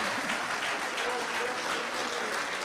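An audience at a talk on chemtrails and synthetic biology breaks into steady applause, a dense continuous patter of clapping that stays even and moderately loud throughout.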